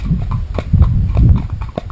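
Horse hooves clip-clopping while riding uphill toward a forest, a close, loud, steady walking rhythm of hoofbeats with a few brief sharper knocks.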